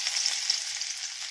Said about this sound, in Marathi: सुरुवातीला तेल टाकून घेते। हे पहा, थोडंसं लसण टाकून घेणार आहे मी।